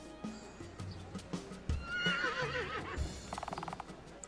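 A horse gives a loud whinny, and hooves clip-clop in a quick run of knocks near the end. Quieter thumps and background sounds come before it.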